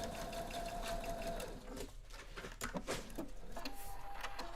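Sewing machine with a fresh size 70 needle stitching fabric, a steady close whirring run that pauses briefly and then resumes with uneven bursts.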